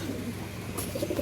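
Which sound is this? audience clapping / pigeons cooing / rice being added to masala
pigeons cooing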